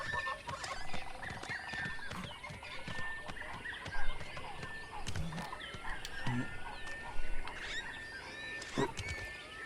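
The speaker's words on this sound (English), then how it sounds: "Don't mistake just the normal parrot squawks for the angry bird sound, though." Parrot squawks in the video game Ancestors: The Humankind Odyssey, scattered sharp calls over a busy jungle ambience with other animal cries, moderately close.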